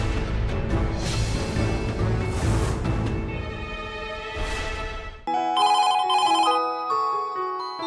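A telephone ringing on an outgoing call, first under a swell of dramatic background music, then a clear repeating electronic ring tone in short bursts.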